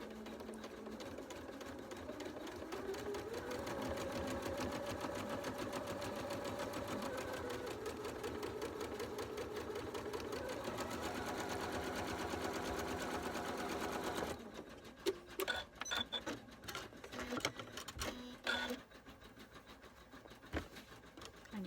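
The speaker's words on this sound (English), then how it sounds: "using the 1/4 inch, just top stitch all the way round" A sewing machine top stitches all the way around fabric panels at a quarter-inch seam for a Christmas craft, whirring steadily and evenly for about fourteen seconds before stopping, followed by faint, scattered handling clicks.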